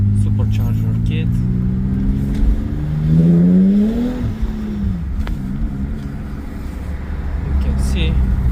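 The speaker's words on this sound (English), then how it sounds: "You can see the car is running pretty smooth," A BMW E36 328i fitted with an Active Autowerke supercharger idles close by, a smooth steady hum that swells briefly in a rev, while someone talks over it.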